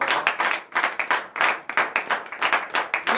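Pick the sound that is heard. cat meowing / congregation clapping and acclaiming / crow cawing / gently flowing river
congregation clapping and acclaiming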